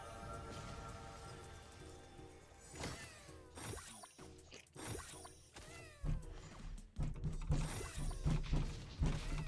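A cat meows repeatedly in short, rising cries, several times in a row, mixed with clicking, ratchet-like mechanical sounds and game noise.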